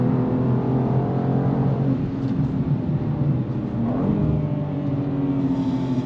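A BMW M2 G87 on a race track, its engine droning steadily with quick automatic rev-match blips on downshifts, loud and close throughout with no talking.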